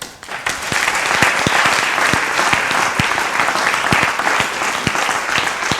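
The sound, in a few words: audience applauding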